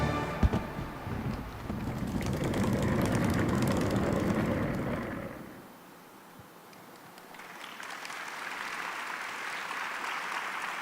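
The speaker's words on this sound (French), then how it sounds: "Ils ont compris qu'il fallait applaudir maintenant" Applause from an audience at a Swiss event, a broad sustained clapping wash that swells, dips midway, then resumes at a steady level for several seconds.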